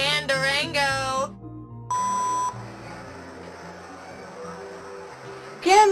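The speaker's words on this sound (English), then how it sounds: "At the sound of the beep, leave your message for Jemima, Holly, and Durango." Answering machine greeting ends in a sustained electronic tone lasting about half a second, clear and close, with voices talking before and after it.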